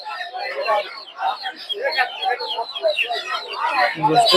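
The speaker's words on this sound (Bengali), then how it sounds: "চারশো টাকা জোড়া সব ছোট সাইজের দেশি মুরগি" Small native hens clucking at a village poultry market, busy overlapping clucks and chatter close by, mixed with a person's voice throughout.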